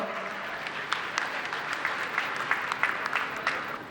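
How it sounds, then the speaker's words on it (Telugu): An audience claps together to open a first-anniversary gathering at a healing pyramid hall, the applause a dense, steady patter of many hands with sharper individual claps popping out, and no talking over it. "ಎಲ್ಲರೂ ಚಪ್ಪಾಳೆ ಮೂಲಕ ಈ ಕಾರ್ಯಕ್ರಮ ಸ್ಟಾರ್ಟ್ ಮಾಡೋಣ"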